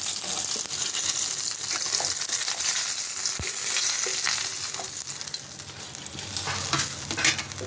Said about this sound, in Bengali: এখন আমি এই মাছটা কড়াইতে ছেড়ে দেবো, ভালো করে একটু ভেজে নেবো মাছটা